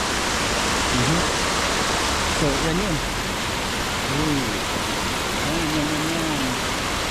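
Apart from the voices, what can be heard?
flowing river water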